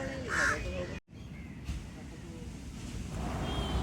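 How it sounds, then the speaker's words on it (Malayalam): Crows caw over a beach at Mararikulam where fish are jumping and a net is being cast; a few loud, close caws come early, then a steady wash of wind and surf continues. "മീൻ ചാടുന്നതനുസരിച്ച് കാക്കകൾ വരുന്നതാണ് കേട്ടോ"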